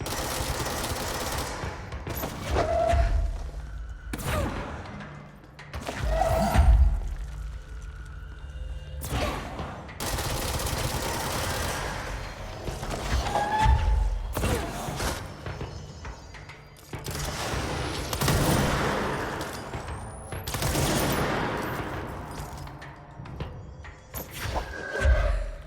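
Gunfire in the video game Control, bursts of loud shots and thumps spread through the scene with short gaps, mixed with impacts, crashes and whooshing effects.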